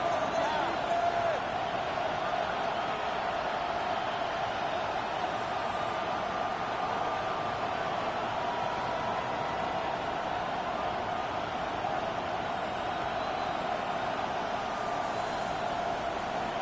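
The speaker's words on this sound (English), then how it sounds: "The crowd getting into it as we come up on a big 3rd down." Stadium crowd at an American football game, building on a big third down: a steady, dense roar of cheering that holds evenly throughout, with no single voice standing out.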